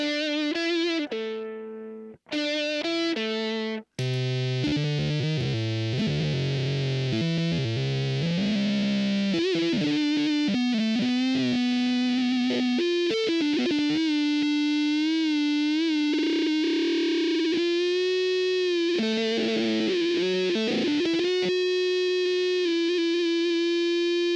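An electric guitar holds sustained notes through a Red Witch Fuzzgod fuzz pedal with its sputter control turned up, sputtering and gating, cutting out abruptly before settling into a buzzing, distorted tone.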